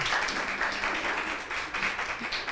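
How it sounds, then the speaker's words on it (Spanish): Applause from an audience at a church talk, as thanks for the visiting priest: steady, moderately loud clapping that fills the short stretch with no voices standing out. "Muito obrigado e salva de palmas ao Padre."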